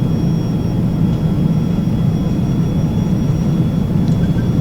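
Carenado Falcon 50 jet in X-Plane 11 rolling down the runway on takeoff: a steady, loud low engine roar with a faint high whine above it, continuous and unchanging throughout.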